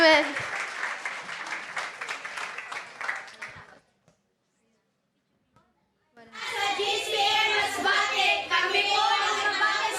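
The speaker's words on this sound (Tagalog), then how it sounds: "Malakas po na palakpak sa ating Diyos na buhay." A church congregation in the Philippines applauds at an anniversary service, dense clapping for a few seconds, then a sudden silence before a second loud burst of applause resumes with some voices mixed in.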